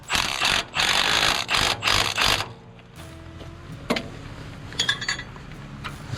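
A ratchet torquing down a nut on a bolt of a Case SDX depth adjuster, with bursts of rapid close clicking, then quieter scattered metallic ticks and clanks.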